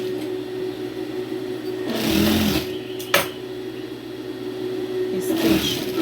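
A sewing machine stitches skirt fabric close by, a steady mechanical whir with a faint hum, swelling in short louder bursts, one sharp click partway through.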